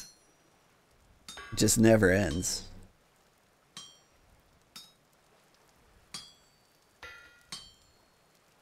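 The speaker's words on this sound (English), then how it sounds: "Doing a lot of tedious hammering." Hammering in the game Vintage Story gives sharp metallic clinks, about six spaced strikes after a short stretch of speech, fairly faint over a quiet background.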